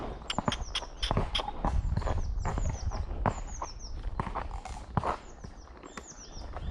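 Hooves of a horse ridden out on a hack in the UK countryside clip-clop at a steady walking pace, close and clear, with birds chirping and some rustling in the background.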